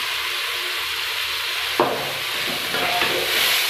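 Tomatoes drop into a pan of browned garlic and frying oil, setting off a sudden burst of sizzling that settles into a steady hiss with faint stirring.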